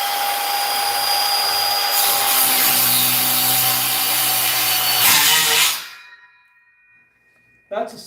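A circular skill saw rips through wood with a loud, steady whining cut that lasts about six seconds, then cuts off abruptly into near silence before a brief clatter at the end.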